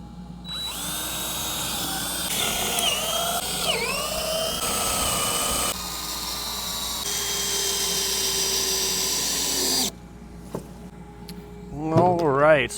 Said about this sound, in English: a little pre-drilling again